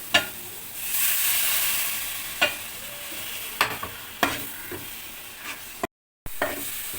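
Masala for chicken roast curry sizzles steadily in a hot pan, with a constant frying hiss broken by several sharp scraping stirs of a spoon.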